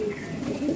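A Peshawari fancy pigeon gives a short, soft, close coo, a single low murmuring call lasting under a second.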